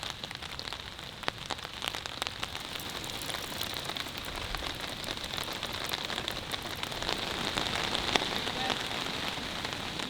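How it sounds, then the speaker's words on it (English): Heavy rain drums steadily on a tarp shelter on an Appalachian Trail hike near Harpers Ferry, a dense, continuous patter with sharp close drops, growing slightly louder toward the end, with no voices. "The rain was coming down heavily now, but from the security of the tarp"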